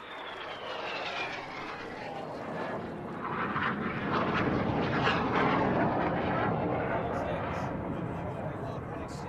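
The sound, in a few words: aerobatic display aircraft Synchro flying carousel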